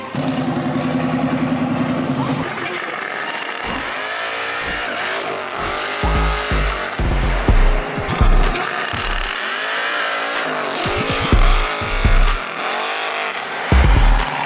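A street race car on Woodward Avenue idles low, then launches hard in second gear with a heavily weighted clutch, its engine revving in loud repeated surges and bursts close by.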